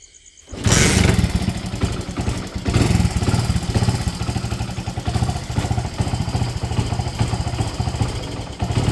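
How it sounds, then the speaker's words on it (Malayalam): A motorcycle is kick-started and catches at once, its engine then running loud and close with a steady, throbbing idle that carries on to the end. "ഞാൻ ബൈക്കിൻ്റെ കിക്കർ അടിക്കുമ്പോൾ നോക്കിക്കോട്ടോ"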